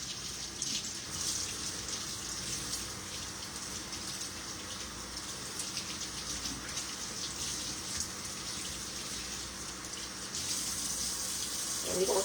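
A kitchen tap runs steadily while vine tomatoes are washed under it, producing a continuous close splashing hiss with small shifts as the stream hits the fruit.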